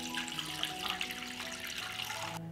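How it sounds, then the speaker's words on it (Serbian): Water poured steadily into a cooking pot lined with a cloth and packed with glass jars, filling to lid height; a continuous splashing, running flow, close and fairly loud, with no talk. "Isipat ću vodu do visine poklopca."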